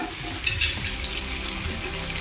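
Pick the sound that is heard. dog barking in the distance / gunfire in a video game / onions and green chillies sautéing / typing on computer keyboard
onions and green chillies sautéing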